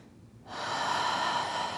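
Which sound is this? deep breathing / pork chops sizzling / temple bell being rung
deep breathing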